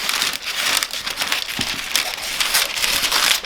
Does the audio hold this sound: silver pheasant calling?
no